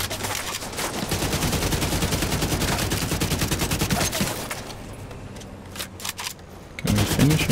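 Sustained automatic gunfire in The Division 2: Warlords of New York during the Aaron Keener fight on Liberty Island, a loud, rapid rattle for about four seconds, then a brief lull and a few scattered shots before another burst.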